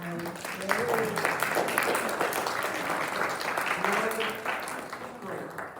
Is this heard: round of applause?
yes